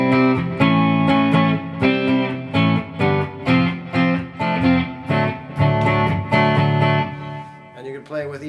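Guitar tuned down a whole step playing the Creedence Clearwater Revival song Proud Mary: a steady, rhythmic chord riff with repeated strummed hits, close and loud, heard alone.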